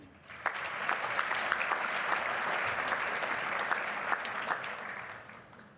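Graduation ceremony crowd gives a warm round of applause after names are read, rising quickly into steady dense clapping with a few sharper close claps, then tapering off.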